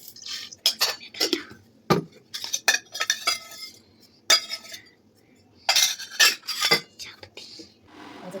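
Cutlery and cups clinking while evening tea with crushed ginger is made at home: repeated bright metallic chinks and taps in irregular bursts, close and fairly loud, with quiet background noise between.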